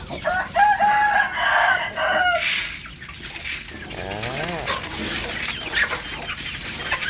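A rooster crows loudly, followed by young Thai native chickens about three months old clucking and squawking nearby in a busy coop, calls overlapping one after another.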